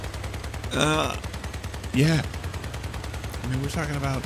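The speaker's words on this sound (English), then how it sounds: "a lot of shooting going on with these things" Reaper guns firing in Crossout, a fast unbroken stream of rapid shots running the whole time beneath someone talking.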